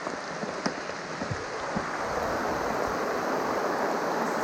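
Heavy rain pours onto a sailboat deck while cruising the Tuamotus in cyclone season, a dense continuous hiss that swells louder midway, with scattered heavier drips and knocks up close.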